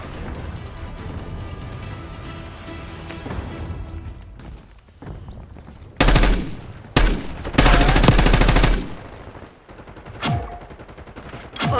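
Call of Duty: Black Ops 6 gunfire, loud sustained automatic bursts and single shots crackling up close, separated by quieter stretches of game ambience.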